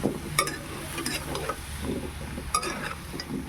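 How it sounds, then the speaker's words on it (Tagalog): Squash being stirred as it sautés in a little oil for a Filipino ginisang kalabasa, with soft scraping and stirring clatter over a low, steady sizzle, quiet and close. "Ating haluin."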